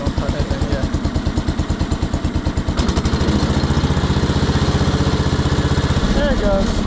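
A 1975 PowerKing tractor engine runs after its first start in two years, chugging in a steady rapid rhythm close by, then picking up louder and busier when given a little throttle partway through.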